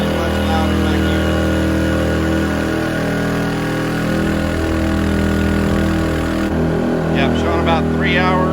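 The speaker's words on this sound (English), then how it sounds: "you come around the back side, the exhaust side. Definitely much louder back here." Cummins Onan P2500i inverter generators paired with a 50 amp parallel kit run steadily from the exhaust side, a loud continuous engine drone that holds throughout; a voice briefly speaks near the end.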